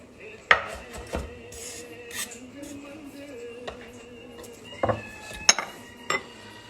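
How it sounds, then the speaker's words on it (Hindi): Food is coarsely chopped on a wooden board, a handful of sharp knife knocks scattered irregularly among light scraping and clinking, close and clear. "मोटा मोटा, बहुत बारीक चॉप नहीं करना है"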